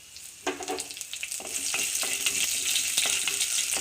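Curry leaves dropped into hot oil with mustard and fenugreek seeds, a sudden sharp sizzle that settles into a loud, continuous crackling fry.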